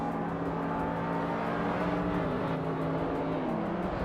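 Race cars in a video game lap Anadira Circuit GP, engines droning loud and steady with slight pitch shifts as they accelerate, no voices over them.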